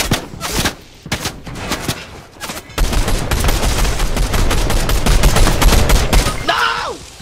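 Gunfire in the video game Fortnite aimed at the player: scattered shots at first, then a sustained, loud barrage of rapid overlapping bursts that ends in a sliding electronic tone.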